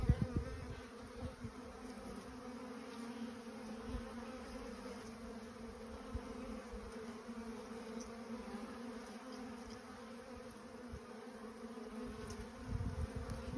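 Honeybees in a weak nuc colony hum in a soft, continuous buzz, close by and fairly quiet, with occasional louder passes from individual bees.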